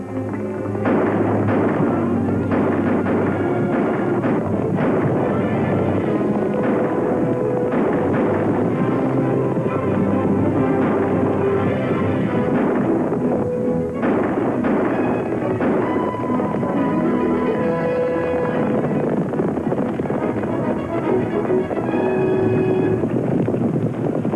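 Gunshots are fired at a man on a ranch in a 1946 Western, a series of loud reports and ragged bangs under dense, continuous soundtrack noise that lasts the whole stretch, with no talking.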